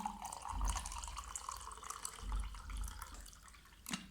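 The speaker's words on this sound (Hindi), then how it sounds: "फिर जो फ़िल्टर्ड पानी होगा, जो फ़िल्टर्ड पानी है, मैंने इसको इस गिलास में इतना डालना है" Filtered water poured from close by into a clay glass holding coconut, a steady splashing trickle with a few drips that runs for several seconds and ends in a brief clink.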